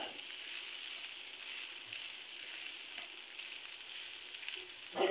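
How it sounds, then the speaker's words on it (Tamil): Poha (flattened rice) going into a hot pan of sautéed ingredients and being stirred, a steady soft sizzling hiss throughout with faint scraping, ending in a brief louder clatter. "இப்போ நம்ம இந்த அவல் இதில் போட்டுக்கலாம். போட்டு நல்லா கலந்து விட்டுறலாம்"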